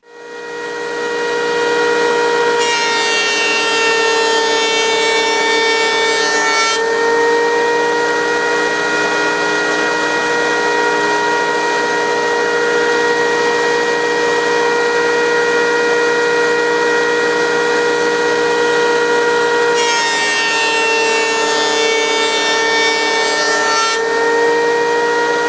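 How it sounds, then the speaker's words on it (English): Wooden boards are fed through a thickness planer; a loud, continuous motor whine runs throughout, with two harsher bursts of cutting as boards pass through the knives, each lasting a few seconds. "So I'm going to run them through the thickness planer and just bring them down so that they're both exactly the same."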